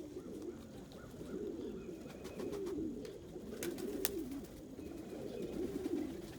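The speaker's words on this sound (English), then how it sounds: "I sometimes get distracted by birds and I lose my chain of thought." Pigeons coo in a low, repeated, soft rhythm close by, a steady murmuring call that continues throughout, with faint sharper chirps from other birds in the background.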